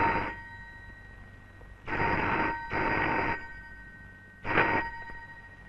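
A telephone bell rings in repeated bursts, a quick double ring followed by a shorter one, fairly quiet with silence between the rings.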